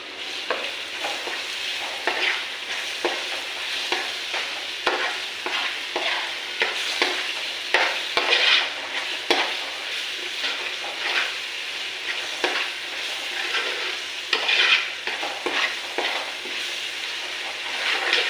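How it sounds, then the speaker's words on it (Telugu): Ginger garlic paste, two spoonfuls, sizzles in hot oil in a frying pan while being stirred, a steady crackling fry with scraping stir strokes throughout, close and alone with no voices. "ఇప్పుడు ఇది బాగా వేగుతుంది కదండి. దీంట్లో 2 స్పూన్లు అల్లం వెల్లుల్లి పేస్ట్ వేస్తున్నాను."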